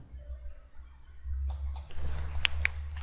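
Mouse clicks in Autodesk Inventor 2015 CAD software, a few sharp, close clicks in the second half over a low steady hum.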